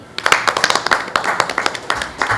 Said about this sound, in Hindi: तो मैं उनके लिए भी ज़ोरदार तालियां चाहूँगी।